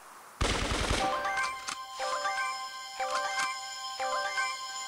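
Rapid gunfire from a Royal Agent Colt skin in a video game opens with a loud dense burst, followed by bright ringing metallic chimes and repeated clicking shots, with no speech.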